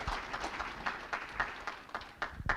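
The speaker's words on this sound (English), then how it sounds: "we want to give a nice round of applause for all those sponsors here today" A round of applause from an audience at a NAMI Walks kickoff event, honoring the sponsors; scattered, moderately quiet clapping with irregular bursts and no voices over it.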